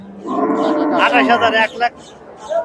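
A six-toothed Jersey cow at a busy cattle market moos once, a long, loud, close bellow that rises and then breaks off, with crowd chatter continuing faintly behind.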